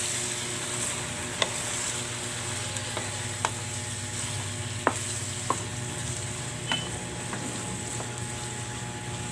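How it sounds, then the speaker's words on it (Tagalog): Pork slices marinated in soy sauce and ground black pepper sizzle steadily in a pan, with occasional sharp scraping clicks from stirring, close up and without speech. "Igisa natin guys."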